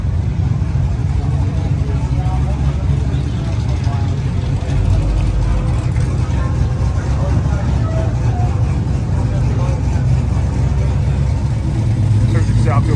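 Cars driving past in steady street traffic at the Hot August Nights car show in Reno, Nevada, a continuous loud low rumble of engines throughout, with people talking over it.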